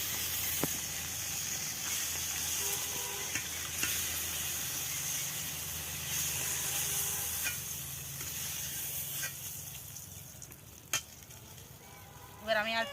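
Koi fish frying in hot oil, heard as a continuous crackling sizzle with occasional sharp pops and utensil clinks, close and steady, with no talk over it.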